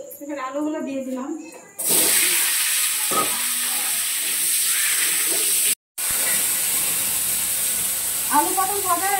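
Potatoes frying in a pan, a loud sizzle that bursts up as they go into hot oil and then holds steady, with a short break; a voice talks over it at the start and end.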